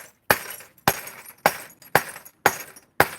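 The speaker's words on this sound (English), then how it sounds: "smash our glass" Glass pieces are smashed up before grinding in an InSinkErator disposal, giving six sharp, evenly spaced breaking crashes, each a loud shattering hit that quickly fades into a brief tinkle, with no talking.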